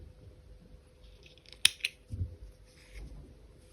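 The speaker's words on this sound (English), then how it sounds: "cut your yarn" Scissors snip through crochet yarn in one or two crisp close cuts, followed by soft handling noises in a quiet room.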